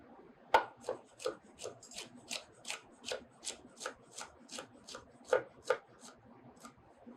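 A kitchen knife slices through a pepper on a cutting board in a chef's kitchen, about fifteen evenly spaced crisp chops at a steady rhythm, faint and close, with no talking.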